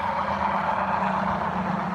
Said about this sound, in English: Sorry for the noise, but we are on a fairly busy road.